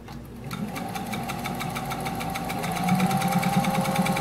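An antique Singer sewing machine with a small presser foot stitches through denim using thick thread, a steady rapid mechanical chatter with a faint motor hum that grows slightly louder toward the end, close up and with no one talking.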